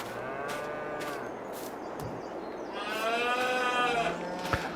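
Cows in Farming Simulator 22 low in long harmonic moos, two drawn-out calls overlapping against a steady barn ambience, the second louder and nearer.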